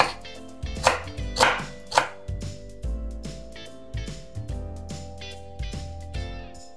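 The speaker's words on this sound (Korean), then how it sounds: "탈탈 털어서 그대로 쫑쫑 썰어주세요." A knife finely chops sour kimchi on a cutting board in a run of quick, close cuts that start sharp and settle into a steady rhythm, with a faint tonal hum beneath.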